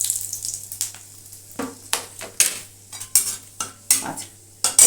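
Whole spices such as cardamom, cinnamon and cloves with a few rose petals fry in a pan, with repeated sharp scraping stirs of a spoon over a soft sizzle and a low steady hum.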